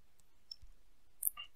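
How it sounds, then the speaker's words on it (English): A computer mouse clicks on a desk, a couple of faint, sharp ticks close by in an otherwise quiet room. "Okay, so you need to click that"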